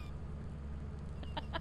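A bird creature in the video game Lethal Company gives a few short squawks near the end, faint over a steady low hum.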